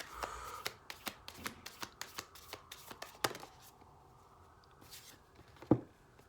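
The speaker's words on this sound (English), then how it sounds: "let's give it a few shuffles here" Rapid riffle shuffles of a deck of cards, a quick series of crisp flutters followed by a few louder snaps and taps, close up with no talking.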